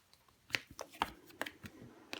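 A tarot card is laid over another card, giving soft, quick papery slaps and rustles, a handful of brief taps at close range in a quiet room.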